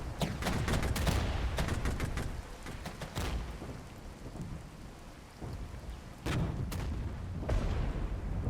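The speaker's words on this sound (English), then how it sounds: "That artillery is a bit of a pain." Artillery shelling in the war game Regiments, with heavy booming blasts and rumbling impacts landing in irregular clusters, loud and dense at first, easing in the middle, then returning strongly near the end.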